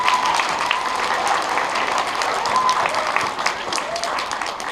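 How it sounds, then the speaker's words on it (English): An audience at an elementary school assembly applauding, a dense sustained wash of clapping from many hands that holds steady for several seconds. "let's give them a round of applause"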